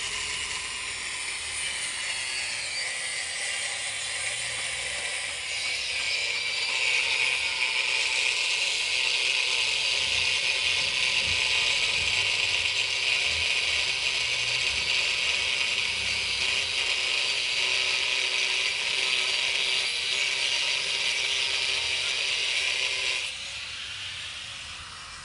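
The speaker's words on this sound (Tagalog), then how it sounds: "Ayan o, pinuputol na lang niya ng grinder." An angle grinder cuts through a very hard car muffler pipe during a muffler replacement, a sustained loud high-pitched metallic whine grinding steadily for about twenty-three seconds before easing off.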